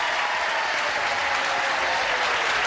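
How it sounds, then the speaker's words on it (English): A 1984 game-show studio audience bursts into sustained, loud, even applause that fills the room without a break. "Applause, applause."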